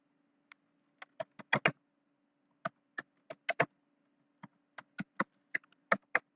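Sharp, irregular keystrokes on a computer keyboard as Azure sign-in credentials are typed, close and clear, with a quick burst of taps and then steady individual presses over a quiet background hum.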